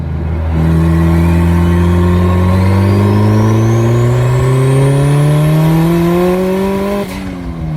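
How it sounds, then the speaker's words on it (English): Car with a freshly resurfaced cylinder head pulling hard in second gear down an empty straight street, its engine note climbing steadily and loudly for about seven seconds before easing off abruptly at the end. "I might do a little pull, second gear or something"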